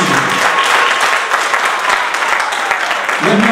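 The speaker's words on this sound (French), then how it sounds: "Applaudissez s'il vous plaît." At a civil wedding ceremony, a room of guests breaks into loud, close applause, a dense wash of clapping that runs unbroken for a few seconds, with some voices mixed in near the end.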